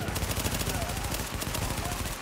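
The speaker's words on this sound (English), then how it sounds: "You over there shooting people?" Dense, rapid automatic gunfire rattles continuously in Tom Clancy's The Division, loud and close, with bursts overlapping and no pause throughout.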